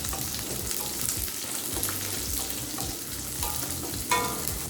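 Small shallots sauté in a pan for a tamarind kulambu, a soft steady sizzle with light scraping and stirring scuffs, fairly quiet and close, one brief clink near the end, no speech.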